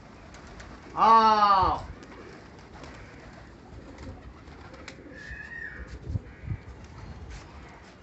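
Pet pigeons give one loud, close coo near the start, followed by quieter rustling and possible wing movement. A voice calls to them.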